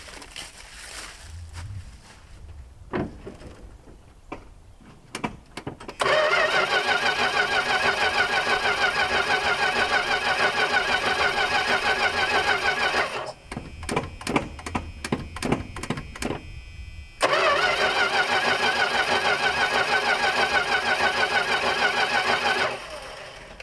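A 1979 Dodge D100 step side that has sat for years cranks in two long, steady bursts of loud starter whir, with short pauses and clicks between them, and does not catch.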